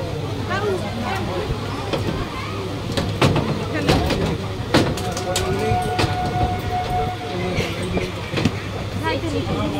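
A local train pulls into Sovabazar Ahiritola station on a Kolkata single-track line with a loud rolling rumble, sharp clanks and knocks, and a drawn-out horn, while people talk nearby.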